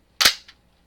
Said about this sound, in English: So, bolt release is back here.